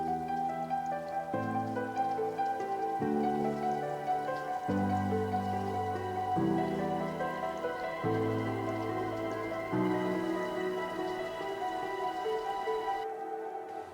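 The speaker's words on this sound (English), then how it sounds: "So this is like a vinyl sound effect, rain sound effects, and more like forest vinyl noise." Gentle piano chords move slowly over a steady bed of vinyl crackle with rain and forest ambience, with the noise layer continuous beneath the notes and no voices present.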